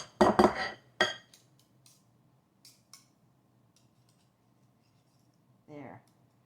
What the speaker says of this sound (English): to dip this up, I'm just going to use a regular old ice cream scoop